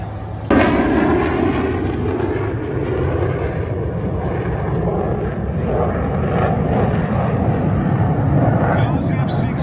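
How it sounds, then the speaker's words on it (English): F-16 fighter jets roar overhead at an air show in Duluth, a loud sustained engine rumble that starts with a sharp blast and holds strong, with people talking underneath. "Those F-16s are from right here in Duluth."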